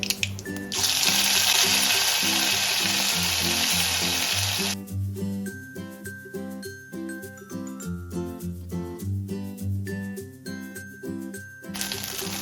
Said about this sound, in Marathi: थोडे आलं लसणाचं पेस्ट टाकू